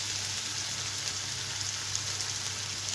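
Green chilies fry in hot oil in a pan on a gas stove, giving a steady, even crackling sizzle throughout at moderate level with no talk.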